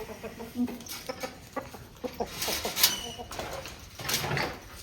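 A hen at a farm clucks in short, irregular bursts close by, with other faint bird calls and light background noise in a brief quiet scene.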